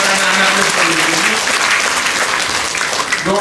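Applause for parents at a nursing school graduation ceremony in Kupang, a loud, dense crowd clapping that holds steady throughout.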